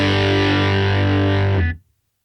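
Cranked amp tone from a Tone Master Pro, a thick distorted electric guitar chord ringing loud and sustained before cutting off abruptly into silence near the end.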